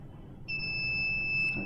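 An UP! Mini 3D printer gives a steady, clear electronic beep that starts partway through and holds to the end, with a faint low hum beneath it, after it finishes extruding filament.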